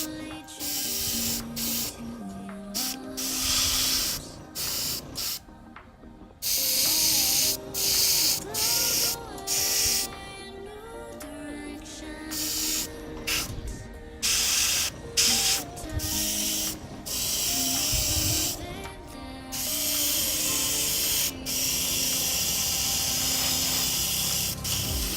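An airbrush sprays paint in steady hissing bursts that start and stop repeatedly over a long stretch, close and fairly loud, with faint mechanical clicks and music-like tones in the background.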